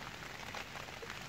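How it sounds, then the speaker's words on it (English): Steady rain falls outdoors on a hiking route in Cumbria between Coniston and Stake Pass, a dense, even hiss of drops on surfaces with no voices over it. "hasn't stopped raining since really got here last night, just been absolutely chucking it down."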